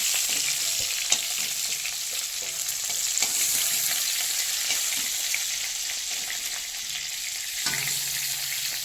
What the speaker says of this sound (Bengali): ভাজা হয়ে গেল আমাদের ফুলকপি